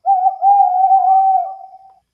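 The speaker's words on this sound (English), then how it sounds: "Oh, it's just an owl." A single low, steady owl hoot, drawn out for about two seconds, loud and close, fading at the end with nothing else around it.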